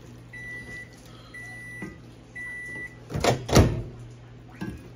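A kitchen microwave oven hums steadily while a few short electronic beeps repeat at even intervals, followed by louder clattering and handling noises nearby, without talking.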